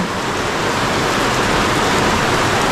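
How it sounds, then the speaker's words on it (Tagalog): Heavy rain pours in a steady, loud hiss outdoors beside a swollen river, an even, unbroken downpour with no voices. "Malakas ang ulan na"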